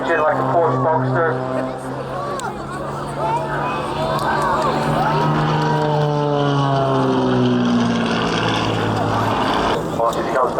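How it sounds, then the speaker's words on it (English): A light aircraft with a Lycoming flat-six engine pitches up in flight, its droning engine tone steady and then dropping in pitch as it passes, while people talk over it. "Once he comes back in on the 45. Pitching the aircraft up."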